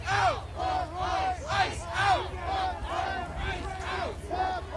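Hundreds of protesters in a street crowd shout and chant together in loud, overlapping waves of voices that rise and fall with a rough rhythm, continuous and close.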